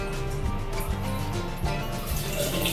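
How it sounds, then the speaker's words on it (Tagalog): A weak trickle of water from a hotel shower, a close, continuous running and spattering with faint dripping, steady throughout with no one speaking. "May tubig pero mahina lang talaga."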